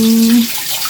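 Water from a waterfall rushes steadily in the open, a close, loud hiss, with a brief low hum or voice-like tone at the start.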